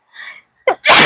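A woman sneezes once, a sharp close burst preceded by a brief inhaled catch, with no talk around it.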